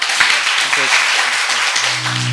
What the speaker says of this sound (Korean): 박수로 감사해